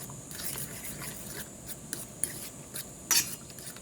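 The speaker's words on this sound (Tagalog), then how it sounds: "Haluin natin." A sardine omelette mixture with chicken powder seasoning being stirred, giving soft rapid scraping and tapping of a utensil against a bowl, faint and steady with a sharper clink near the end and no talking.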